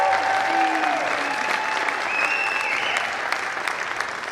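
Band concert audience applauding steadily and loudly for a school music director, a dense continuous wash of clapping throughout with a few faint tones over it.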